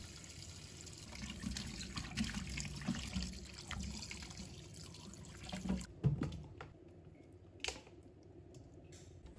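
Running tap water splashes into a basin as blanched braising ingredients are rinsed, a close, uneven gush and trickle that shifts as the food is stirred, then drops to sparse drips near the end.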